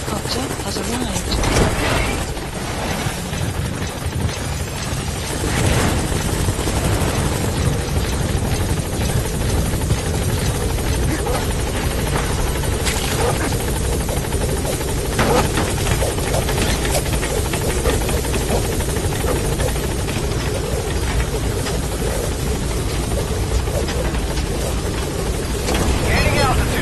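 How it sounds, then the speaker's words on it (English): A military support helicopter from Metal Gear Solid 5 arrives with a loud, continuous rotor thump and engine whine, holding steady throughout, with occasional game sounds and brief radio voices. "Support helicopter has arrived."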